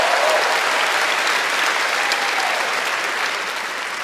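A comedy club audience in Montreal claps for the band at a stand-up show, a dense, steady round of applause that fades slightly toward the end.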